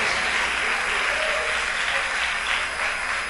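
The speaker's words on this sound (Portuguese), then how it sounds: "Pode aplaudir mais forte." Church congregation applauding during a sermon, a dense, steady wash of clapping heard from within the crowd, with no voices standing out.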